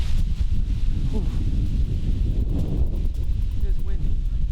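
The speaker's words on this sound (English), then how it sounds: "It is windy." Strong wind buffets the microphone in low, rumbling gusts, with brief faint sounds drifting underneath.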